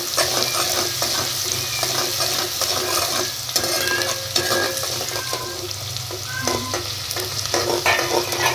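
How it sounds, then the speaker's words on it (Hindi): Medium onions cut into long slices fry in a pan, giving a loud, continuous sizzle with frequent stirring and scraping and no voices. "डाल करके अब ब्राउन होने तक इनको फ्राई करेंगे।"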